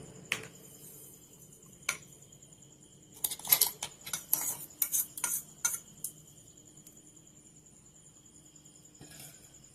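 A spoon taps and scrapes against a steel bowl while powdered sago and semolina are added, giving sparse metallic clinks followed by a quick cluster of bright ticks, faint against a quiet room.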